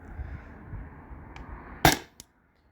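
A Crosman CO2 air gun fires over a chronograph, one sharp loud crack followed by a fainter second snap, then silence, with low room rumble before the shots.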